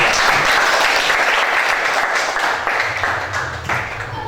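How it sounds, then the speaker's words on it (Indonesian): Classroom applause for a student group after a presentation: dense, continuous clapping from many hands in a room, fairly close and loud, slowly thinning toward the end with no speech over it. "tepuk tangan dulu untuk kelompok"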